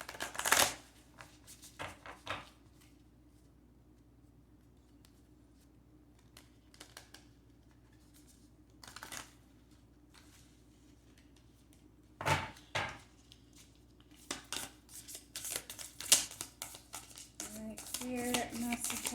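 Cards from a Love Oracle deck being shuffled and drawn, short papery riffles and taps in scattered bursts, quiet and close, with long gaps between them.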